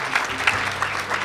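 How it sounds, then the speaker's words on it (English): Applause from a studio or convention audience after a panel of voice actors, a steady dense patter of many hands clapping throughout, close and fairly loud with no clear break. "A round of applause"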